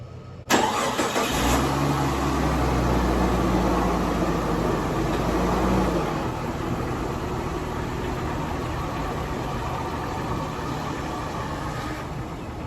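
A car engine cranks and catches, then settles into a steady, loud running drone that stays close and continuous, with no talking.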